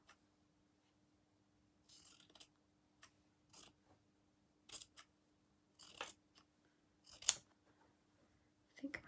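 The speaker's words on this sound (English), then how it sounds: "I think my scissors sound like they need sharpening." Several crisp snips from dull scissors cut through fabric at irregular intervals, close by, with short pauses between them over a faint steady hum.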